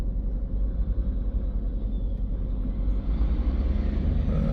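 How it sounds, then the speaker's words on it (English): A big truck rumbles past in heavy traffic on a narrow town road near Leeds, a steady low roar close by that swells slightly as it goes, with no voices. "Big truck coming."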